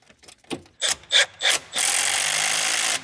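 A nut is run onto the V-band clamp of the downpipe on a 1000 HP LS1 Trans Am turbo, with several short close metallic clicks and ratchet strokes, then a continuous rasping whir.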